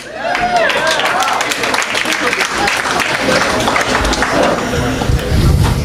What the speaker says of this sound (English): That's the best applause you can do?